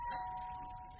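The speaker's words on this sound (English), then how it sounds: "That was the doorbell," A doorbell rings once as a faint, steady electronic tone that is brief and held, with quiet room noise around it.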